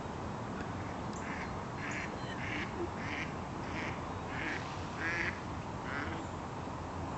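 Ducks quack repeatedly at a pond in West Newton, a steady series of distinct calls at moderate distance over constant outdoor background noise.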